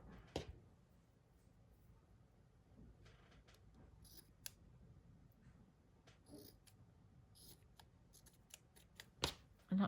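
Scissors cutting through craft materials such as cheesecloth during a pocket-decorating project, heard as a few soft, brief snips spread over a quiet background with faint handling noise.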